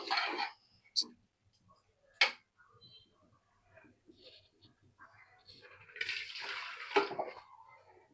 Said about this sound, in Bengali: আমি এখন আস্তে আস্তে একটু গরম পানি দিয়ে দিচ্ছি